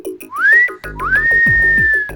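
A person whistles on request in a comedy sketch: two rising, sliding whistle notes, the second held long and steady, loud and close with no talk over it.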